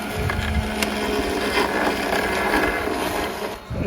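A Mammotion YUKA robot lawnmower runs steadily on a lawn, giving a continuous whirring, rumbling drone at close range with light wind noise throughout.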